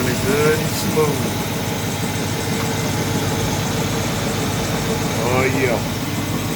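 A car engine fitted with dual alternators idles smoothly and steadily close by, with a constant low rumble throughout and a brief faint whine.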